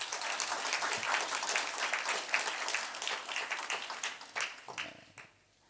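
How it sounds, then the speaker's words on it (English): Audience applause for a team and participants at a telecommunication authority event, a dense roomful of clapping that holds steady for several seconds, then thins into a few last claps and tails off. "the team, I think, deserves a big round of applause"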